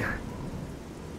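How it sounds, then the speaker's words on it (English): Steady rain falls in the fantasy world of The Elder Scrolls IV: Oblivion, a continuous soft hiss of downpour that stays even throughout, with a brief brighter tone at the very start. "it's been raining constantly in game."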